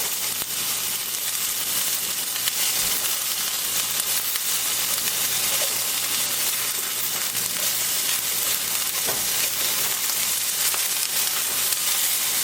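Beef frying in a hot pan for Mongolian beef, giving a steady loud sizzle and hiss that runs unbroken, with occasional small crackles and stirring noises and no talking.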